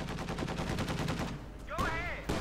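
Machine gun fire from a half-track in the strategy game Company of Heroes 2, a fast steady string of loud bursts, followed by a brief whistling, warbling sound effect and further battle noise.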